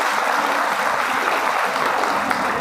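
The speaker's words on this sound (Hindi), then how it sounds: "इनके लिए जोरदार तालियां।" Sustained applause from an audience at a school stage event, a dense steady wash of many hands clapping at even loudness throughout, with no voices standing out.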